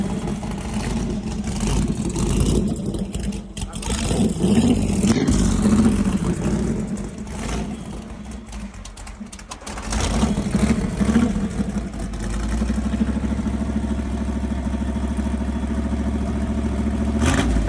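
Car engine cranks, fires and settles into a rough, loud idle with revving swells right after a starter swap on a long-dormant car, close up, with voices talking over it.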